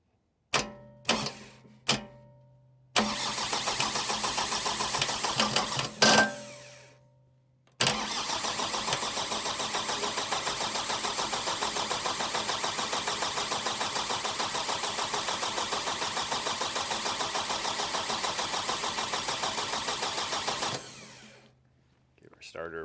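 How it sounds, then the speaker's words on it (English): A Power Trac 1850 engine cranks on its starter in several short bursts, then one long steady churning run of about thirteen seconds before it stops, with pauses of silence between, close and fairly loud. "I'm going to jump the starter and just let the engine turn, and we're going to purge all the air out of there"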